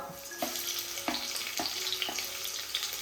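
Tomatoes tipped into onions already frying in a pan, setting off a bright, steady sizzle with a few soft stirring knocks, close and alone without talk.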